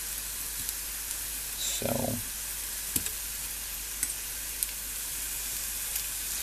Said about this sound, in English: I'm gonna leave them to simmer for a little longer